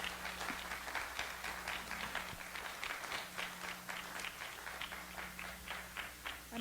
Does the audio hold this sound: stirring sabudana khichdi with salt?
no